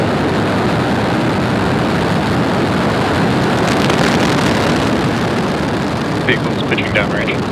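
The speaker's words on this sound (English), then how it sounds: "Ignition, engines full power, and liftoff." A SpaceX Falcon 9 rocket roars at liftoff as a dense, continuous broadband rumble, loud and steady like heavy wind, with faint radio-style voices near the end.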